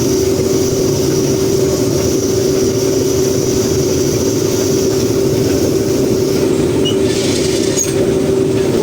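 A combine harvester with its header drives through a grain field at the start of harvest, giving a loud, steady mechanical drone with a constant whine running the whole time and a few faint clicks near the end.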